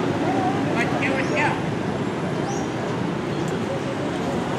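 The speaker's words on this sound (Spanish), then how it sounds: "El ruido de la ciudad a esta hora es suave." Soft, steady city traffic hum drifts through an open square in the early hours, a continuous distant roadway wash with a few faint bird chirps and coos above it.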